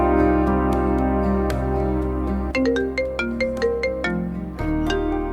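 A mobile phone ringtone plays alone as a loud, bright electronic melody with sustained tones and plucked notes, signalling an incoming call; the tune shifts pattern partway through and keeps ringing.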